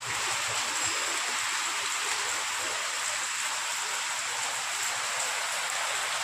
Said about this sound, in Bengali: আর এই দেখো কত জোরে বৃষ্টি হচ্ছে